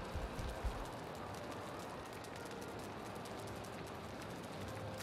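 Steady, soft rain patters in the video game Valheim, a faint, even hiss that goes on without a break and no voices over it.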